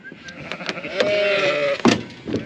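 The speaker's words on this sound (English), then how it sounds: "So I'm just clicking the sheep here." Sheep bleating on a farm during dosing work, a single loud, wavering bleat in the middle of the clip, with soft handling noises and clicks around it.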